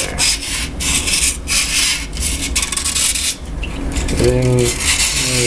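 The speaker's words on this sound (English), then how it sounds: "Let's get a little bit of sandcloth and just go around the edge there" Sand cloth scrubs around the edge of a Sloan flush valve, a steady close rasping rub in quick back-and-forth strokes, loud and continuous, with a brief tonal squeak near the end.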